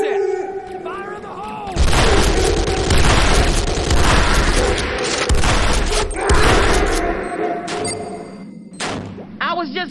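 Explosions and heavy weapon fire from the Renegade video game, C4 charges detonating in loud, sustained booming bursts with rumbling low end, mixed with game voice callouts and a person talking over the action.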